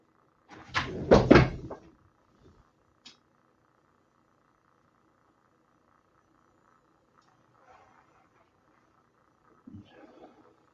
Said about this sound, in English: I'm shutting the door